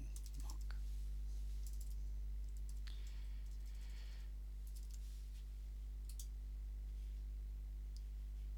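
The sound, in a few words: typing on a computer keyboard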